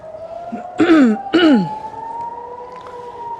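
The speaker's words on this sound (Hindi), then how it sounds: "राजधानी तेल अवीव में हवाई हमले की वजह से सायरन बजने के कारण" An air raid siren in Tel Aviv during rocket attacks wails with a long rising tone, briefly interrupted by two short vocal bursts, then continues steadily in the distance.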